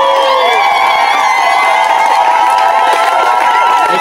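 A large crowd at an outdoor prayer gathering on a mountain cheers and shouts for joy, loud and sustained throughout with overlapping voices and whoops.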